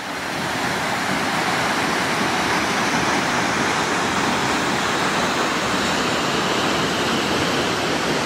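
A waterfall drops into a pool with a constant, loud, broadband rush that holds steady throughout.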